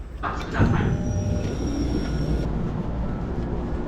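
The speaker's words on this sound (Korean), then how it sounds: "오늘의 마지막 열차, 니가타로 가는 열차입니다." A train bound for Niigata, Japan rumbles steadily along the rails, with a loud low roar and a faint metallic squeal of wheels.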